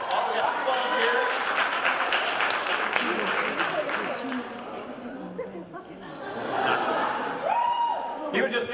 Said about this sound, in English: Big round of applause for all the volunteers.